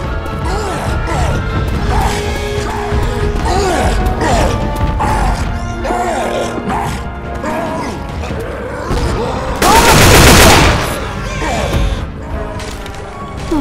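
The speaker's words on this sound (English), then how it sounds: "shoot the shit out of that thing!" Gunfire in a shooter video game, a rapid string of sharp shots and impacts with a heavy burst near the end, mixed with voices and other in-game clatter.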